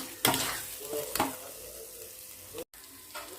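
Mutton and masala stirred as they fry together for a kima fry: a soft steady sizzle with a few distinct spoon scrapes against the pan and a brief dropout, close and fairly quiet.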